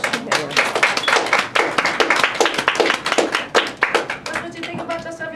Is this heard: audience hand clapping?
yes